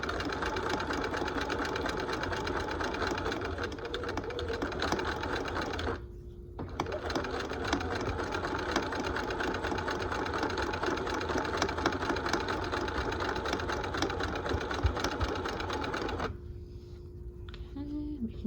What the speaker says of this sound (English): So I'm gonna go ahead and do 2 stitches, back stitch, and then stitch again